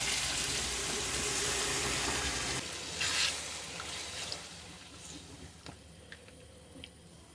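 Water poured into a pan of simmering chicken liver masala, a steady loud sizzling hiss that drops abruptly and settles into a quieter bubbling with a few soft clinks, close by.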